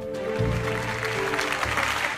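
Congregation at a Lakewood Church service claps in a large hall, a dense, even wash of applause heard through a phone microphone, with a low hum running underneath.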